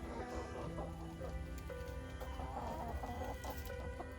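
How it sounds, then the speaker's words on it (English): Backyard chickens cluck softly and steadily at a distance, mixed into a busy, continuous outdoor background with a faint pattering texture. "they're chickens. Say hi, chickens."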